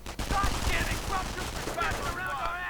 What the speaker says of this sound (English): Engineers getting gunned down by Pulse Grenadiers with MP40s